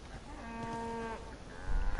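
A cow in the Far Cry 5 video game lets out one long, low moo over steady game ambience, followed by some heavier thumping noise near the end.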